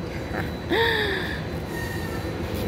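A train speeds through a station platform, a brief whine and screech of wheels rising sharply near the start, then fading into steady background rumble with no talk.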